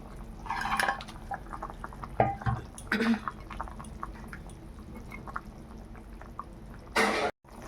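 Pieces of rohu fish go into a pot of boiling water for a thin fish curry with potato and Malabar spinach stems, making soft splashes and bubbling, with clattering pot sounds and a sharp clunk near the end.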